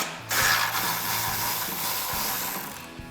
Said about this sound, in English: Grab your 8mm socket and undo those bolts so we could release our fog light.